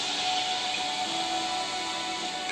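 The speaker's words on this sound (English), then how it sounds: "Everywhere, the deafening hiss of escaping steam." Escaping steam in a steel mill hisses loud and continuous, a broad, steady roar with no breaks and no talk.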